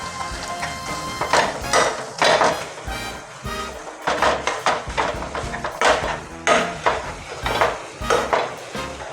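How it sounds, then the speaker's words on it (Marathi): Khoa is stirred and roasted in a pan over low heat for kandi peda, with repeated scraping strokes of a spoon against metal in an uneven rhythm, close and clear over a faint sizzle. "ही मस्त आपला खवा भाजत आहे"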